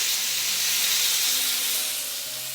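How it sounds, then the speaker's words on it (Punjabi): Garlic ginger paste fries in hot ghee for Punjabi dal makhani, a steady close hiss and sizzle that fades slightly toward the end. "ਆਪਾਂ ਇਹਦੇ ਵਿੱਚ ਪਾਵਾਂਗੇ ਇੱਕ ਵੱਡਾ ਚਮਚ ਭਰ ਕੇ ਲਸਣ ਤੇ ਅਦਰਕ ਦਾ ਪੇਸਟ ਤੇ ਇਹਨੂੰ ਆਪਾਂ ਚੰਗੀ ਤਰ੍ਹਾਂ ਭੁੰਨ ਲਵਾਂਗੇ"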